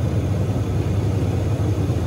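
A car engine runs at raised RPM during an alternator load test, a loud, close, steady low rumble and hum that holds evenly without change.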